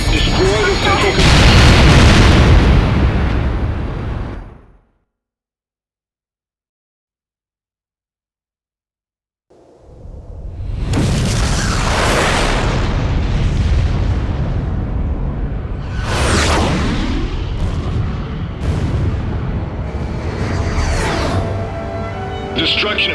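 Heavy booming explosions of enemy facilities being destroyed in Ace Combat: Joint Assault, one loud blast cutting off into a few seconds of silence, then a string of further rumbling detonations with sharp bursts.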